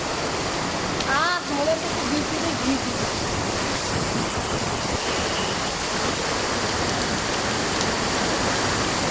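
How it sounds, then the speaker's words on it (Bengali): Steady heavy rain pours down outdoors in Kolkata, a dense constant hiss filling the whole stretch, with a voice briefly audible early on beneath it. "আমরা এখন বৃষ্টি থামবে তারপরেই যেতে পারবো"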